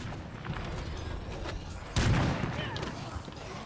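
Gunfire in the zombie survival video game State of Decay 2, a sharp burst of shots cutting in mid-clip over a busy background of game noise, with a loud report standing out among scattered fainter bangs.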